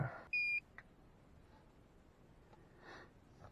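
A battery, starting and charging system tester unit gives a single short, clear electronic beep as it powers on, followed by faint handling noises in a quiet room.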